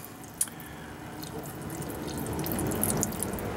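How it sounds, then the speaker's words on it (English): Water draining out of the radiator cooling system of a Ford Powerstroke 7.3 diesel truck, a steady close trickle and splash with scattered drips, growing slightly louder toward the end, with no talking. "And this is draining, like I said, we still have about three or four gallons of water in the system"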